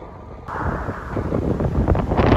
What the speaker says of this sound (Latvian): Arī vējš ātrāk no rietumiem iegriezies ir.